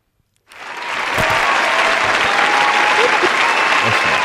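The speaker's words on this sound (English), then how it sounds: "Give a round of applause." Audience applause for a podcast guest, starting abruptly after a brief quiet moment and quickly swelling into steady, dense clapping that holds loud and even to the end.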